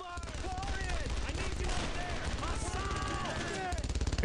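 Heavy World War II combat gunfire in Brothers in Arms: Road to Hill 30, a steady stream of rapid shots with voices shouting over the battle, loud and continuous.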